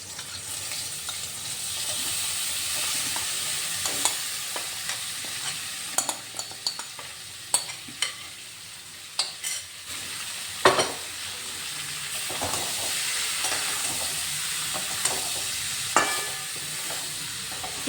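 Marinated taro stolons (kochur loti) frying in a hot pan, with a constant close sizzle broken by repeated sharp spatula scrapes and clacks against the metal throughout.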